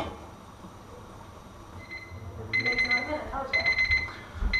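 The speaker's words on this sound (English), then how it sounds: "the beep is going off" A kitchen timer beeps in two rapid, repeated bursts of high electronic tones while eggs poach on the stove, and low voices murmur underneath.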